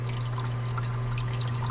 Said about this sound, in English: you see water is coming in right here as the water is being used